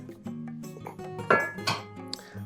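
A heavy cast iron skillet being handled in a kitchen while making white truffle mac and cheese, giving a few sharp metallic clanks and knocks with softer scraping contact between them, close by.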